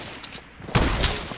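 A sniper rifle fires once in a PS4 video game, a loud, sharp blast followed by a brief rumbling decay, alone over low game ambience.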